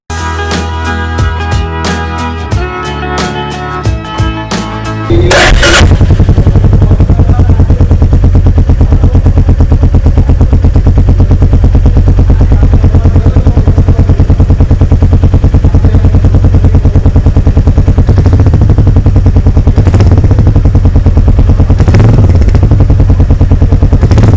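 A Royal Enfield Meteor 350 motorcycle engine runs loud and close with a steady, thumping exhaust note, preceded by a few seconds of clattering starts and blips before the engine settles into a continuous rumble with occasional revs.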